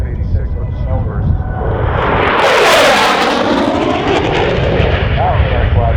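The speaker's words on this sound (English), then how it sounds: "That's the sound of the F-86 Sabre plugged in with the Snowbirds today." F-86 Sabre jet flying past in formation with the Snowbirds at an airshow, a loud roaring engine rush that swells to a peak and then trails off into a sustained rumble.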